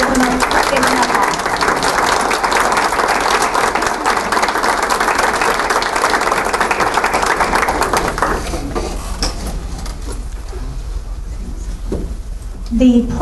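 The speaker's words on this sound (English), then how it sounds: "Everybody turn around and give them a applause." An audience at a Hall of Distinguished Educators induction ceremony applauds faculty members, a dense sustained roar of clapping in a large hall that fades after several seconds as a voice resumes talking.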